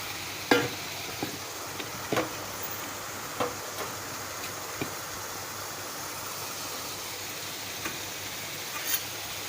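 Mushroom curry fries in a pan with a steady, close sizzle, while a spoon stirs and scrapes with scattered clicks and knocks. Nobody speaks.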